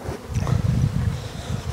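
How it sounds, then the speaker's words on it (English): Honey bees swarm around a beehive in a ranch apiary during feeding, their close, steady buzzing drone filling the air with constant low hum and no pauses. "But there are bees everywhere."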